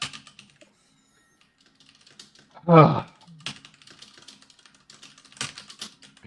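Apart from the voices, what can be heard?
typing on a computer keyboard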